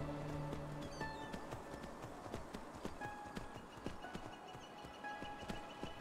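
A horse gallops in Enderal, a Skyrim mod video game: quick rhythmic hoof clops at near galloping speed run steadily and moderately loud over faint tonal background music.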